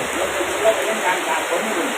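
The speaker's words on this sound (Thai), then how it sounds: "ตอนนี้ ฝน กำลังตก" Steady, dense hiss of rain pouring down, constant and close, with no pauses and no other sounds standing out.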